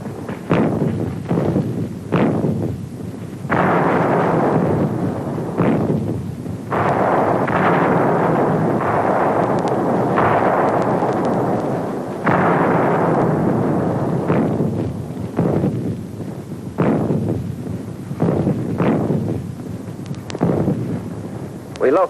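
World War II beachhead artillery guns firing in 1944, a long series of loud, deep booms at irregular intervals, each rolling into a rumbling roar that fills the gaps between shots.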